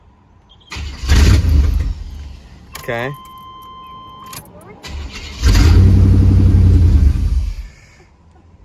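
A Chevrolet K1500 pickup with a crank-no-start fault cranks and fires, its engine rumbling loudly, dropping away, then catching again and running strongly, with brief speech and mechanical clicks between.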